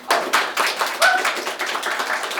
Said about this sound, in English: we will welcome you with a round of applause